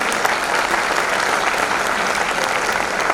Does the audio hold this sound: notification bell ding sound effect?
no